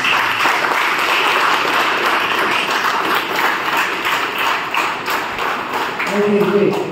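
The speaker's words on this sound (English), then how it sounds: "So big round of applause for all the kids." Sustained crowd applause for children at a school prize distribution, with dense clapping throughout, steady and fairly loud, with a faint voice rising near the end.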